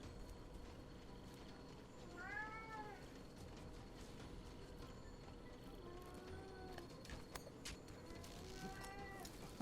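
A pet cat meows plaintively indoors, a few drawn-out cries spaced several seconds apart, faint and close over a low background hum from a game.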